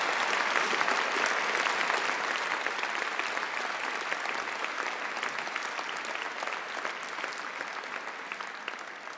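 An audience applauding graduates at a university postgraduate graduation ceremony, sustained dense clapping from a large crowd at steady loudness throughout.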